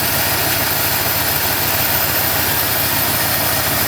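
A stock Ford 351 HO V8 in a pickup truck idles smoothly, a loud, close, steady low rumble with even pulsing and no revving throughout.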